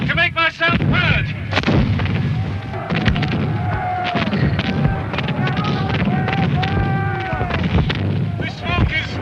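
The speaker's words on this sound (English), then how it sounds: "That's Cumberland's cannon. Cannonades all around me." Cannon fire booms repeatedly during a Battle of Culloden reenactment, heavy blasts going off near and far in quick succession while someone speaks loudly over them.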